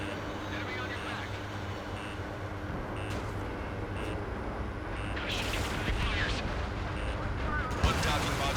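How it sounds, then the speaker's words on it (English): During a flight combat mission in a video game, a docking module blows up as a heavy explosive burst over a constant low engine-like rumble, with another sharp blast near the end. "One docking module destroyed."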